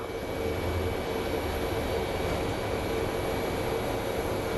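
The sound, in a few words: Boeing 737 jet aircraft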